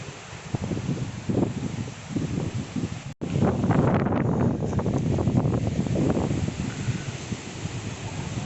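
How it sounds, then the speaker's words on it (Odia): Cyclone Yaas winds at 70-80 km/h roar across a village in Bhadrak district, a loud, continuous buffeting rush that hammers the microphone, briefly cutting out before surging back even stronger. "ପବନ ଯାହାକି ମୁଁ ଛିଡ଼ା ବି ହୋଇପାରୁନି ଏଠାରେ ଯାହାକି 70-80 ଘଣ୍ଟାକୁ 70-80 କିଲୋମିଟର ପବନ ଗତି କରୁଅଛି"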